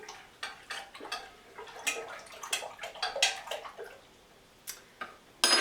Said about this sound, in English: We're going to slosh around the soap into that water.